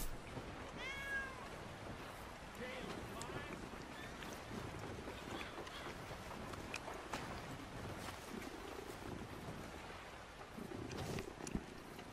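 A cat gives a brief, faint meow early on against steady wind and outdoor ambience.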